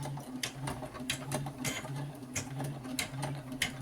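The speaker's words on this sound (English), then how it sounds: "you press start, and then the machine does the rest of the work for you" A home embroidery machine stitches facial features into a design, with a rapid, steady mechanical patter and whirring close by, repeating in short even bursts without any voices.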